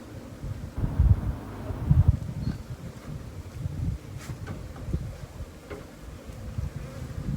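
Bees buzz around beehives outdoors, a steady close drone with low rumbling gusts of wind and rustling, no talk.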